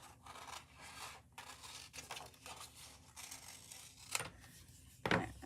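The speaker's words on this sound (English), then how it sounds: "I'm going to take my scissors and cut" Scissors snipping through flower stems during a floral arranging demonstration, quiet close rustling and scraping with two sharper cuts near the end.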